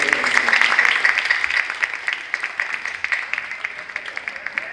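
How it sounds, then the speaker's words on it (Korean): A church assembly audience at a Korean Presbyterian day service gives a round of applause, dense at first and thinning into scattered, distinct claps toward the end. "감사의 박수 한번 드리겠습니다"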